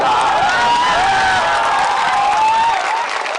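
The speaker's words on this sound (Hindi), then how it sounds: "ताली बजा दिए, ताली बजा ली।" A crowd at a political rally in Paliganj applauds and cheers loudly. Claps and shouts merge into a sustained wash that lasts the whole stretch.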